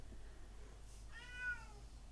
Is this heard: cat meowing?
yes